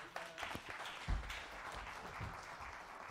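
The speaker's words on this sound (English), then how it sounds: "Clap your hands" A church congregation clapping along during a sermon, a faint, uneven patter of hands with a few sharper claps, distant and low in level.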